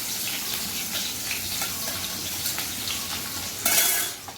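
Onions hit hot oil and sizzle in a continuous close hiss, with stirring scrapes and a sharp louder burst of spitting oil near the end.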